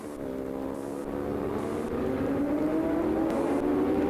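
A Honda VTR and a Suzuki 1000 racing motorcycle roar past at the Bol d'Or endurance race, with a sustained engine whine whose pitch climbs steadily as they accelerate at a moderate distance.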